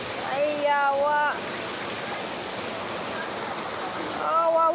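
Flood water flows in a steady rushing hiss, like a stream, continuous and moderately loud, while a person's voice breaks in briefly at the start and again at the end.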